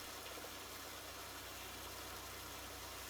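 Tractor engine idling in Farming Simulator 19, a steady low mechanical hum with a fine rhythmic throb, continuous and even throughout with no talk.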